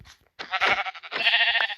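Two loud, wavering sheep bleats in Minecraft ring out close up, one right after the other.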